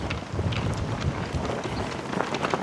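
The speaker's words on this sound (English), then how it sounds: "It's very windy." Steady wind buffets a small clip-on microphone outdoors on a breezy day at a flag display in Waubeka, Wisconsin, producing a loud, continuous rumbling roar with gusty flutter and no voices.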